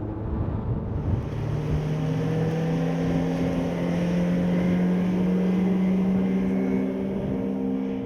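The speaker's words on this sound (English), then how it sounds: "Not so easy for the engine to bring the boat up to plane, i.e. to lift it from the water" A Selva Flyer 550 Sun Deck motorboat with a 40 hp outboard engine straining to get up on plane, a steady droning engine tone that rises slightly in pitch and holds, close and continuous with water rush beneath.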